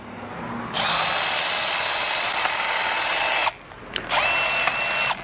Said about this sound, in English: that little hedge trimmer got that bush done